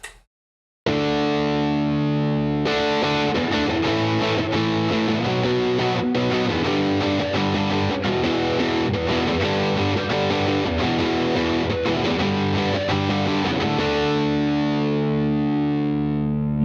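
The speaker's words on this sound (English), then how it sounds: "Now we're gonna go into more in the distortion territory, which is gonna be more saturated, more gain, just more fuzzy." An electric guitar played through a heavily saturated, fuzzy, high-gain distortion tone rings out in dense sustained chords that swell after a brief silence, then carry on loud and buzzing before a gradual fade.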